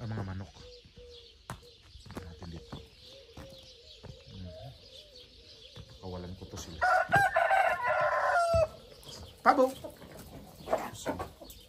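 Chickens and a rooster crowing in an overgrown garden, with a burst of loud crowing in the middle amid scattered clucks and other bird calls, under intermittent nearby speech.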